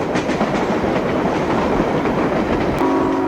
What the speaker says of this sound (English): We begin with riding an eastbound passenger train leaving Scranton in 1966 near the end of passenger service.